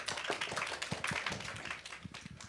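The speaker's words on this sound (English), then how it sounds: "Ladies and gentlemen, please give a round of applause to Dr." Audience applause greeting a speaker at a forum on SME digital and green transformation: a steady, dense patter of many hands clapping from a crowd, sustained throughout without a clear build or fade.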